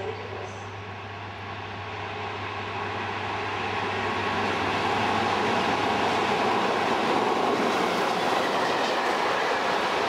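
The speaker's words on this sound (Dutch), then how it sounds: "En vanuit de richting Salzburg komt deze goederentrein, getrokken door een 1044." An Austrian class 1044 electric locomotive hauls a freight train from the Salzburg direction near Rosenheim, with a rolling roar and wheel clatter building steadily as it approaches and passes close by, and a low hum fading early on.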